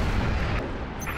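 Heavy weapons fire against Phantom dropships in the video game Halo: Reach, a dense, continuous roar of booming blasts filling the short stretch, loud and close with no pauses.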